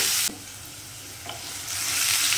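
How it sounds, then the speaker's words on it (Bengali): Potatoes fry over high heat in a pan for a coconut curry, stirred with a spatula: a steady broad sizzle with a scrape near the start, another around the middle, then the hiss swells louder toward the end. "আমি আরেকবার নেড়ে দেবো"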